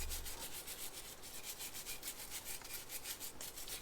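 A brush scrubs brake cleaner over the seal area of a Land Rover Defender power steering pump. The strokes come in quick, rhythmic rubbing bursts, close and fairly quiet, with no talking.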